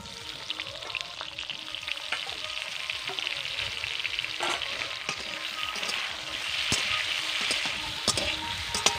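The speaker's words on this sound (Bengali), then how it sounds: "এবার আমি 2 মিনিট মতন সময় ধরে আমগুলোকে ভেজে নেব" Chopped raw mango sizzles and fries steadily in a pan for sweet pickle, with occasional sharp crackles and spatters over the continuous hiss and no voices.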